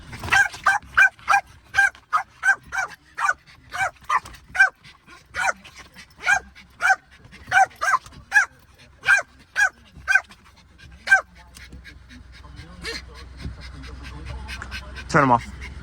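A reactive dog barks rapidly and repeatedly, close and loud, in a steady string of sharp barks that taper into panting and whining with soft shuffling.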